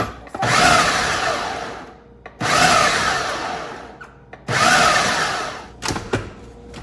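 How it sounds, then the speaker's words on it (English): A food processor pulses corn with maple syrup into a sticky, chunky dough in three loud, whirring bursts of under two seconds each, separated by short pauses, with a quieter clatter at the end. "then we're gonna pulse it again so it makes like a sticky, chunky corn"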